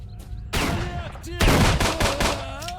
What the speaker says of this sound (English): What is the recoil on this 9x18 pistol? Jesus. It flies up every time you shoot it.